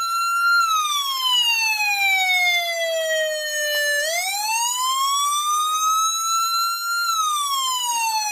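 A loud electronic emergency-bell alarm siren wails continuously, its pitch sliding down, then rising and falling again in a slow sweeping cycle, with no voices.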